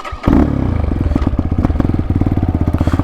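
A budget dirt bike engine revs hard, its exhaust popping in a rapid, rhythmic burble that rises and falls close by, loud and alone.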